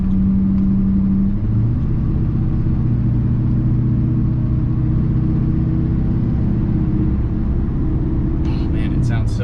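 A Duramax diesel pickup with straight-pipe exhaust and down pipe accelerating, a steady loud low drone heard from inside the cab that shifts in pitch as the engine pulls, with a voice talking over it.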